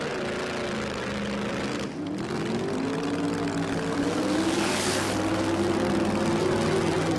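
A small-block 471 Hemi drag car with twin turbos revs hard at the Brisbane Jamboree, its droning engine note sliding up and down in pitch and holding loud and steady, with a brief dip partway through.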